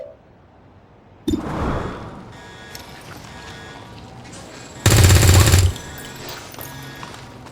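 Gunfire in XCOM 2 on Nintendo Switch: a sharp shot, then a loud sustained burst of automatic fire about a second long, with a mechanical game soundscape between them.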